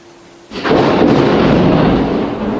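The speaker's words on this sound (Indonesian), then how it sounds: "ya kan, petir kan." A loud clap of thunder breaks in after a brief quiet moment, then rolls into a sustained, heavy rumble that slowly fades toward the end, with no voices.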